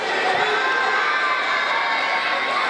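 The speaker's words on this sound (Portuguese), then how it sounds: "Não sei para quem estão torcendo, mas que estão gritando estão" Crowd at a school sports competition cheering and shouting, a loud, continuous wash of many voices that holds steady throughout, heard from a distance.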